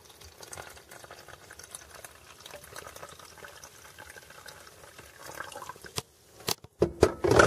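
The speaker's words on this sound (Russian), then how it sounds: "Наливаем." Cold homemade lemonade pours from a thermos with a soft, continuous trickle, then a few louder splashes and gurgles near the end.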